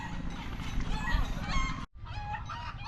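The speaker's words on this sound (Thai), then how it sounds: "เสียงไก่กระตาก" Poultry in a rural village in the early morning make loud, harsh honking and clucking calls in close succession, with a brief gap before they continue.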